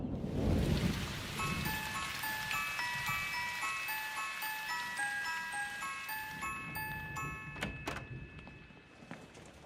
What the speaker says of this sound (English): It's really raining hard out there.